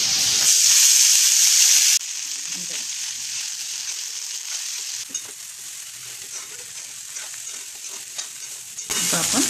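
Cooked rice with turmeric and salt being stirred in a pan for South Indian lemon rice, a steady scraping and stirring over a soft sizzle and hiss, loudest at the start and close by.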